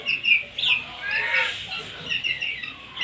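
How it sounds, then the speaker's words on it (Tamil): Several fighting chickens cluck and chatter nearby on a farm in a continuous, uneven murmur, with occasional higher squawks rising above the flock. "இதெல்லாமே போர்க்கோழி தான்."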